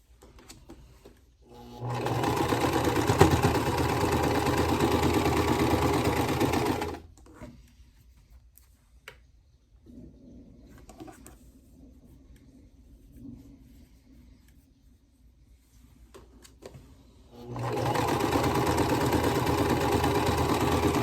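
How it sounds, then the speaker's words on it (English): A sewing machine stitches fabric pieces together in two long steady runs of rapid whirring, close and clear, with a quiet pause between them while fabric is handled. "Then start sewing them 2 by 2."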